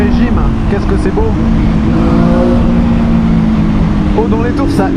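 Loud, close mid-range engine note from a 2021 Triumph Street Triple 765 RS motorcycle, a sustained rough hum with slight pitch wavering under faint wind noise for about five seconds.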